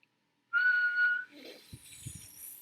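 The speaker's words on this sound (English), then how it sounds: "as we do this whistling approach" A steady, clear mouth whistle holds one pitch for under a second as a French horn aperture exercise, followed by soft breathy air and faint rustling.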